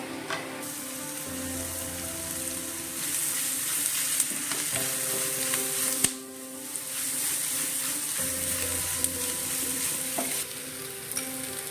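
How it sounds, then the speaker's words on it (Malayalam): Ten garlic cloves sauté in hot oil in a pan for an egg butter masala, sizzling and frying steadily and close up, with a few soft stirring clinks and no talking. "10 വെളുത്തുള്ളിയുടെ അല്ലി, അതൊന്ന് വഴണ്ട് വരണം."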